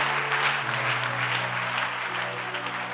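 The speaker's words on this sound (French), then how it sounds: "Acclamons le Seigneur pour vous." Church congregation applauding, a dense steady clapping that fills the room evenly for a few seconds beneath a low sustained tone.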